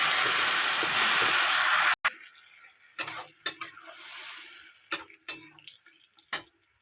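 Hot oil with panch phoron roars in a loud, dense sizzle for about two seconds, then cuts off abruptly, leaving quieter crackling broken by several sharp stirring clatters after tomatoes are poured in.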